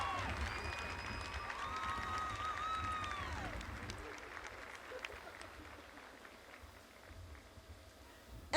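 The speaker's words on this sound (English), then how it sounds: "One more round of applause for all of these wonderful kiddos." Audience applause at a high school graduation, a soft, scattered wash of clapping that gradually thins out, with faint voices and a microphone tone over it.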